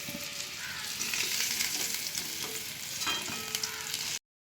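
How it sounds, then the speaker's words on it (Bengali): Steady, close sizzling of taro pieces frying in hot oil until reddish-brown, with occasional stirring, cutting off abruptly at the end. "আমার কচুগুলো একদম সুন্দর করে লাল লাল করে ভাজা হয়ে গেছে"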